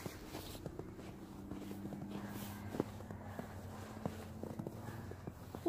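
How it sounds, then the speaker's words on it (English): Faint, soft pattering footsteps of a small dog, scattered irregular taps over a quiet, steady background hum. "I think that's the dog footstep."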